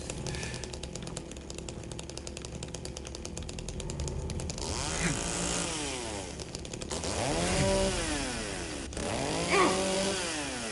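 Chainsaw attack in Silent Hill 2 Remake: a buzzing two-stroke motor idles, then revs up and down in repeated rising and falling whines, loud and close, with no talking.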